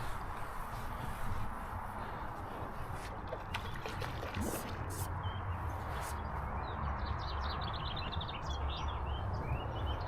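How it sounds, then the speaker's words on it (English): Birds chirp and sing beside a river during early-season fly fishing, with faint thin calls over a steady low wash of flowing water. "The birds are a singing and the fish are a feeding."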